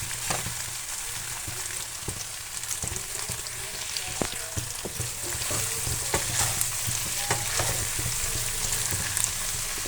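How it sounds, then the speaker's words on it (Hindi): Tinde (apple gourd) and onions fry in oil in a pan, giving a steady soft sizzle with frequent scraping stir clicks throughout. "अब हमने ये अपने टिंडे और साथ जो प्याज हैं वो ऐड कर देने हैं और इन्हीं इसी इसी ऑयल के अंदर हमने टिंडे और प्याज को पकाना"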